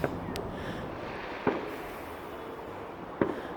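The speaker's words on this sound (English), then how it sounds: "it's just random fireworks being let off" Fireworks going off around a London neighbourhood on Bonfire Night, three sharp distant bangs spaced about a second and a half apart over a steady background hiss and rumble.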